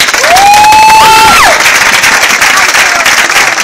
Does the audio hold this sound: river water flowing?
no